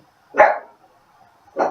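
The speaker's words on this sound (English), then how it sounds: "That's my dog barking." A dog indoors barks twice, loud and close, the two sharp barks spaced over a second apart with silence between.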